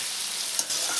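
Chicken and pea ghugni masala fries in a pan, a brief bright sizzling hiss with a soft scrape of stirring partway through.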